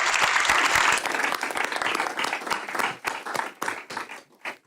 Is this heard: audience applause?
yes